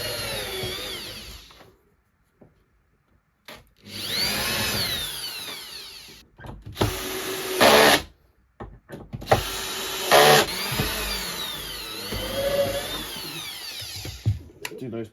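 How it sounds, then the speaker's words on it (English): Power drill boring pilot holes into screw indentations during a Batpod build, several bursts of whining motor that spin up and down between short pauses and handling noises. "I can just drill into those for my pilot holes"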